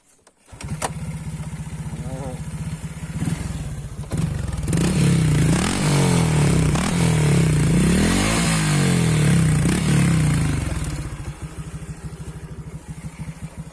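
A 125cc motorcycle engine turns over, fires up, and revs loudly for several seconds before settling into a steady, chugging idle, with a person talking faintly.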